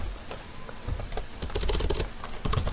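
Typing on a computer keyboard, a close run of irregular clicks and taps that grows denser toward the end, with no talking.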